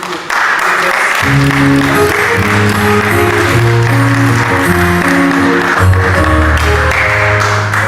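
Sustained applause from an audience at a women's day awards ceremony, loud and continuous, with music playing underneath throughout.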